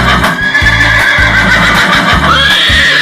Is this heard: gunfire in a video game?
no